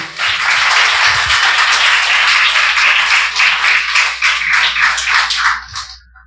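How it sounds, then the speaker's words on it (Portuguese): A church congregation applauds during an evening service: steady, dense clapping fills about six seconds at full strength, then thins and fades out near the end. "Você pode aplaudir a Ele nesta noite?"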